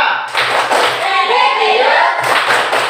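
Primary-school class performing a rhythmic clapping routine in a classroom, patterned groups of claps and taps with children's voices chanting along.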